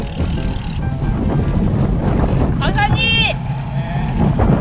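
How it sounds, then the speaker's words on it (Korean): Strong wind buffets the microphone while riding custom-painted bicycles, a steady broadband roar running throughout, with a brief whistling tone rising and falling near the middle. "바람이 많이 불어 갑자기."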